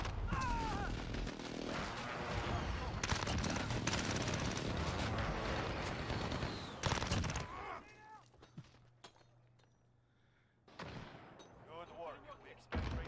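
Gunfire in the Modern Warfare video game: dense bursts of shots and automatic fire fill the first half, then drop away before another short burst near the end, with voices mixed in.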